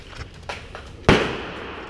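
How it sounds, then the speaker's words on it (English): An airsoft frag grenade goes off indoors with a single sharp, loud pop and a short decaying tail, following a few faint knocks and shuffles. "Frag goes off, nothing happens."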